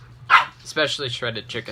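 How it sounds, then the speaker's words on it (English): A pet dog lets out a few sharp, close barks and yips in quick succession while a person keeps talking over them indoors. "Sorry, that was my dog."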